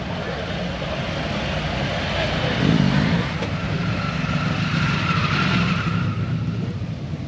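Motorcycles pulling away on test rides at an outdoor open-house bike show, a continuous engine rumble with rising revs and steady crowd-and-traffic background noise throughout.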